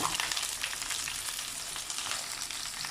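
Curry leaves and thinly sliced onion fry in oil for a chicken kuzhambu, giving a steady, close, dense sizzle that holds evenly throughout with no talking.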